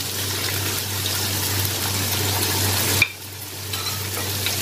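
Red chili, salt, coriander, cumin, garam masala and turmeric are stirred in a frying pan for keema aloo, giving a steady close sizzle with scraping that drops sharply near the end.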